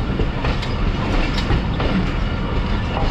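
A Sialkot Express train arriving at Wazirabad Junction: a steady, loud rail rumble with continuous wheel clatter throughout, no voices.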